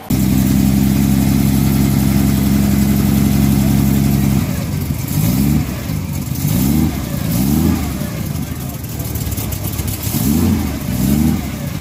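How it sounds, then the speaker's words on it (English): A 702-cubic-inch V12 gasoline engine idles with a deep steady rumble, then revs in several rising bursts, loud and close. "is a V12 engine that displaces a whopping 702 cubic inches"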